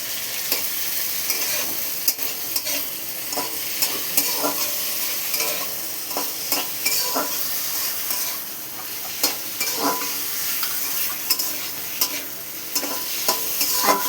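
Boiled chickpeas frying with ridge gourd and grated coconut in a pan, a constant sizzle punctuated by regular scraping and knocking stirring strokes.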